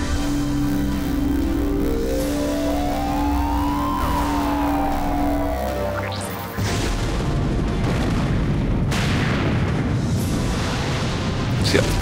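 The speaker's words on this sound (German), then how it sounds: "Die Kanone hat sich selbst zerstört." A loud cannon explosion in Sonic Adventure 2 Battle erupts with a booming, crackling burst, following a long sustained tonal rumble; dense, noisy debris-like roar continues afterward.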